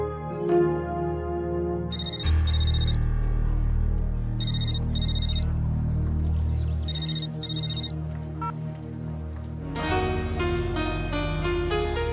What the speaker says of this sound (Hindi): अपनी माँ का फोन काट रहा है